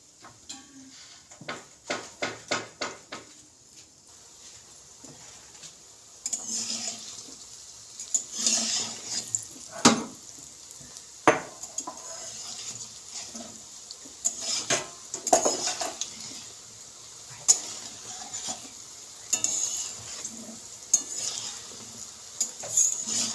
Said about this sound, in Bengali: এভাবে সব কটা আমি ভেজে নেব।